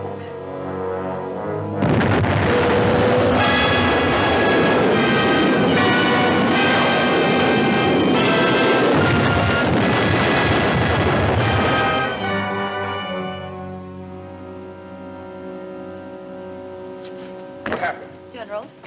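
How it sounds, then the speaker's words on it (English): A film explosion, sabotage aimed at a general in the 1969 undersea-city drama City Beneath the Sea, bursts as a loud sustained roar with booming, ringing debris that rumbles for about ten seconds before slowly fading into quieter rumbling. "The explosion was a deliberate attempt to kill you, sir."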